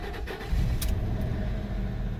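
Car engine starting a little sluggishly, with a short cranking burst that catches into a low steady rumble, close by.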